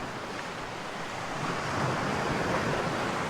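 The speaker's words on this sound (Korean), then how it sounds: "나는 이 파도 소리를 잘 담고 싶었는데" Steady ocean surf washing onto a shore, a continuous broad rushing roar that swells slightly louder midway, with some wind noise on the microphone and no voices.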